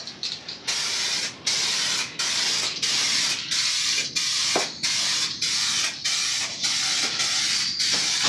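Clear coat sprayed from an aerosol can onto motorcycle fairings: a series of about ten loud, close hissing bursts, each lasting under a second with short gaps, alone with no talk.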